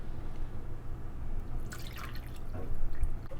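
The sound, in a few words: milk being poured into cake batter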